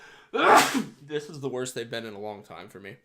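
A sharp, loud sneeze bursts out near the start, then a person talks for a few seconds.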